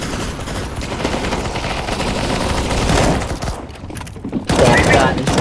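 Sustained automatic gunfire in CS:GO on a survival workshop map, loud and dense, rattling almost without pause with a short lull before firing resumes.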